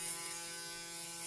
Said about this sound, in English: I got the Braun 9, Series 9, very smooth, very quiet.